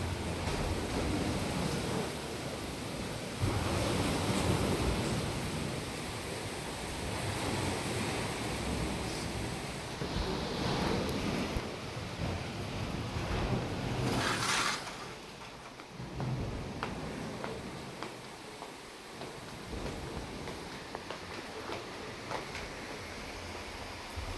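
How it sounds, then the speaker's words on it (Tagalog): Steady rain falls outside a house, a broad continuous wash of noise lasting throughout, with a few brief louder swells and no voices. "Tingin muna tayo sa labas. Maulan."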